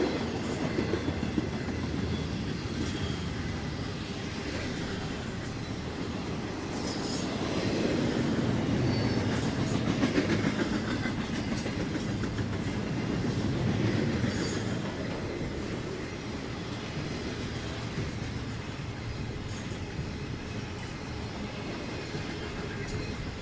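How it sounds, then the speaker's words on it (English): A long Norfolk Southern freight train rolls past on the New Castle District with a steady rumble, rhythmic wheel clatter and occasional metallic squeals, swelling midway then easing off. "This is quite a train."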